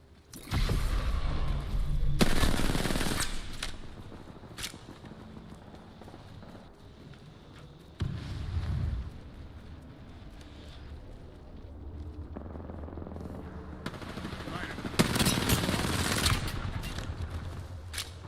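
Video game gunfire crackles in bursts of rapid automatic shots with loud close volleys and quieter stretches between, heard alone without any talk during a team shooter match.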